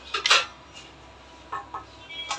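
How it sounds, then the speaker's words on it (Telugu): A kitchen knife chops onions on a board at home, a few sharp clustered taps and thuds with quiet gaps between, fairly close and clear with no talking. "my husband నరికింగ్ onions"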